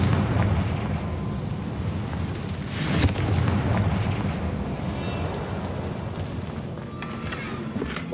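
A Confringo fire spell blasts in Hogwarts Legacy, a single burst of explosive noise near the middle over a dense, rumbling ambient bed with crackling texture throughout.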